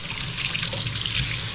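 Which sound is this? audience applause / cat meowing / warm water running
warm water running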